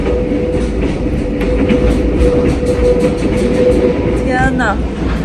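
A Vietnamese sleeper train runs along a clifftop coastal line toward Da Nang with a loud, steady rumble and rapid wheel clatter, as a voice briefly rises over it near the end.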